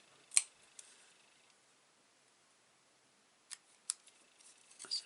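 Scissors snip through paper card, shaping a leaf for a handmade greeting card; a few quiet, sharp cuts at the start and again near the end, with near-silence between.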